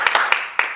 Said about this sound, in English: Give yourself a round of applause, right?